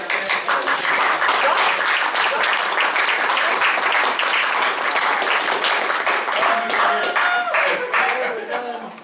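Sustained audience applause at a school board meeting, many hands clapping steadily and loudly for about nine seconds before beginning to fade at the end.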